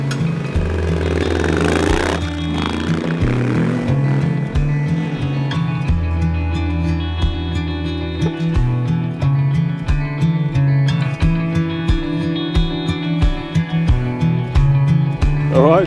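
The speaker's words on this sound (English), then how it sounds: "riding heavy adventure bikes up a ski" Heavy adventure motorcycles climbing a ski slope in Bosnia and Herzegovina, engines droning and revving steadily for the whole stretch, with rattling clatter over the rough ground, close and loud throughout.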